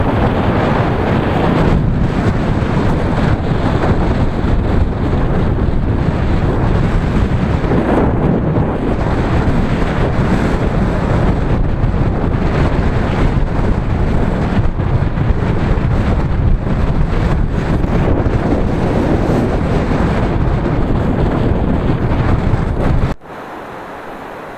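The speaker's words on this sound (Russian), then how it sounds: "Вроде бы дорога вниз идет, а меня обратно в гору тянет ветер." Strong wind on a downhill road in Vietnam roars steadily into the microphone in heavy gusty buffeting that continues nearly throughout, then abruptly drops away near the end.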